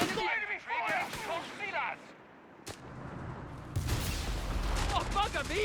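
Gunfire in Company of Heroes 3 during a 1v1 match: sharp gunshots and broad explosive bursts crack through, with a heavy rumbling barrage in the second half, while a commentator talks over the action.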